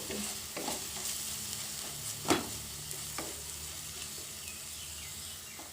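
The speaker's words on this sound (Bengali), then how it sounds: "মশলাটাকে এবার ভালোভাবে কষিয়ে নেব" Masala of onion, ginger-garlic paste and green chilli fries in a pan for prawn malaikari, giving a quiet steady sizzle with a few sharp stirring clicks and scrapes.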